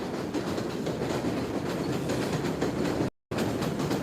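A train rumbles past close by, a loud, steady clatter of rail wagons that fills the whole stretch with a brief cut near the end.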